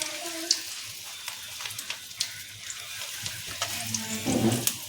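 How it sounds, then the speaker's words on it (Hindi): Chicken cutlets go into hot oil and fry, a soft crackling sizzle with scattered pops and faint clinks nearby, fairly quiet and close. "इसमें गरम तेल में डाल देंगे"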